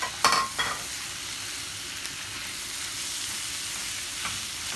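Minced veal hits a hot pan with a sharp clatter and burst of sizzle, then settles into a steady, close frying hiss with an occasional stir, with no talking.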